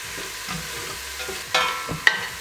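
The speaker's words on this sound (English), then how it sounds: "I'm just adding a little bit more olive oil. And then I'm starting to sweat our onions" Onions sweat in olive oil in a pot for pasta al ragù. A low, even sizzle sits under a few scraping stirs, with a sharp metallic tap near the end.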